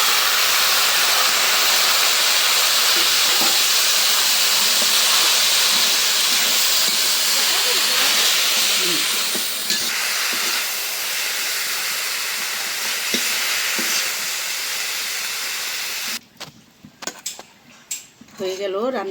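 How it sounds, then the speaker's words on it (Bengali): Leafy greens tossed into a pan of fried onion and garlic give a loud, steady sizzling hiss that fills most of the stretch, then drops away near the end with a few clinks. "পেঁয়াজ রসুন ভাইজে নিলাম এখন শাক দিয়ে দিলাম"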